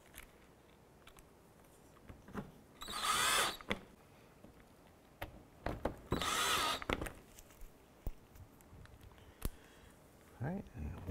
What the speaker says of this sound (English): We're going to install our screws across the bottom of the bumper.